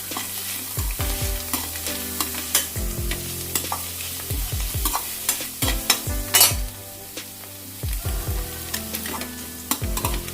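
Vegetables stir-fried lightly in a pan for street-style chicken fried rice, giving a continuous sizzle with frequent sharp clanks and scrapes of the ladle against the pan, close up and without talk.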